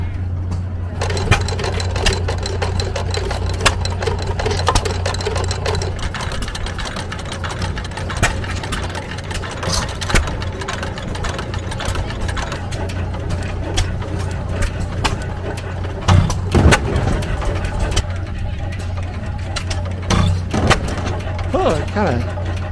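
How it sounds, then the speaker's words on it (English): An antique farm engine runs on a trailer at a Tennessee antique tractor show, chugging loudly and steadily with an uneven hiccup in its rhythm while a person talks over it. "Look how this engine is rocking the trailer as it runs."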